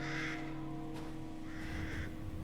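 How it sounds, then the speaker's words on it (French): Crow caws from the video game Resident Evil Village, two short raspy calls about a second apart, fairly close, over a steady ambient game backdrop with a low hum. "Avec le petit corbeau."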